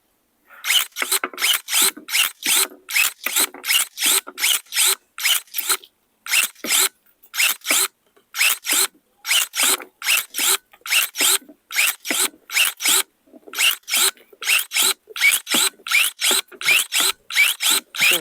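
A ProCraft ES 32 Li cordless battery pruner cutting branches, with a long run of sharp, rapid snipping bursts repeating steadily in quick succession, loud and close, with no talking.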